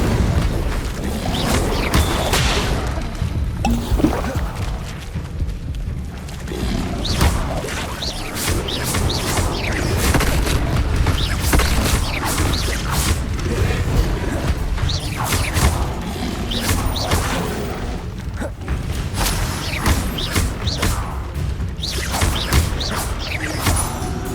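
Spellcasting combat in Hogwarts Legacy, including the Incendio fire spell, heard as dense, repeated booms, crashes and thuds with whooshing magical bursts. The impacts run continuously and loudly throughout.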